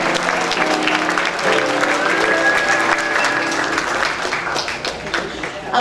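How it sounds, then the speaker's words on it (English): An audience at a retirement community talent show at Forest Trace claps steadily in loud, sustained applause that fills the room, with some voices mixed in. "So let's give them a round of applause before you hear them."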